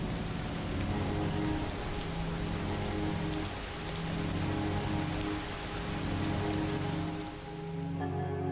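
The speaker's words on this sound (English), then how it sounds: "Just a little lightning storm." Steady rain pours down in a thunderstorm within the video game Far From Noise, a dense continuous wash of drops with low rumbling thunder underneath, no voices over it.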